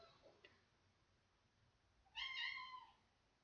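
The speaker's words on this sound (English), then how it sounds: "Sorry, it's my cat." A house cat gives a single short meow, faint and somewhat distant, after a stretch of quiet room tone with a few soft ticks.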